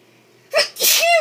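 A single human sneeze, a sharp sudden burst followed by a louder explosive release and a short vocal tail, close and loud in a quiet indoor room.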